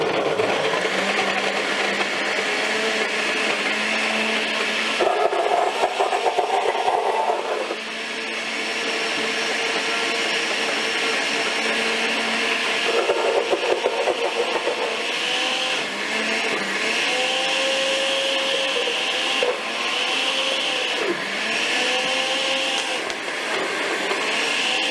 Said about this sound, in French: Par contre, il faut bien le mixer.